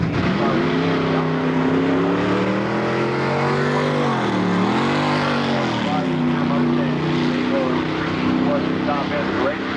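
A 5-liter drag racing car roars down a dragway, its engine a loud sustained drone that dips in pitch briefly midway and then climbs again, with an announcer talking over it.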